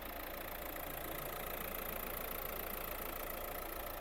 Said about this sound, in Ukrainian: Робота двигуна. Екологія на місці, двигун працює чітко.